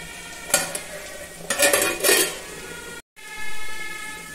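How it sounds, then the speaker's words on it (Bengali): Fish curry gravy for Bengali doi machh, made without onion, cooks in a pan with ginger, sending out bursts of bubbling and sizzling amid some clinks and scraping, then a short dropout and a steady simmer. "এবারে ঝোল ফুটতে শুরু করেছে"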